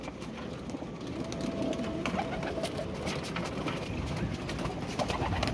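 Flying pigeons coo softly and repeatedly in a steady low murmur, with faint shuffling and background hum around them.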